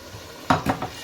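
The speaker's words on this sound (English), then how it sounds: "give that a stir" A spoon stirs potato and pumpkin curry in a pan, giving three quick scraping sweeps close by with a light sizzle under them.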